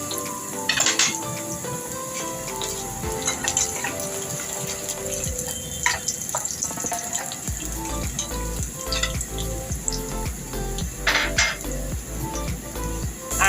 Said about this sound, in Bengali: এবার এই ডালটাকে, ছোলার ডালটাকে ফোড়নে দিয়ে এটা একটু ভাজা ভাজা করছি